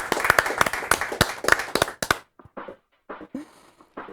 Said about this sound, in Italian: E facciamole l'applauso anche a lei